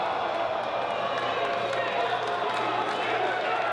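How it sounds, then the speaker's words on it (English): A wrestling video game arena crowd roars steadily in approval, a dense and continuous wash of cheering that holds at an even level throughout. "And like a roar, this crowd has just come to life seeing that"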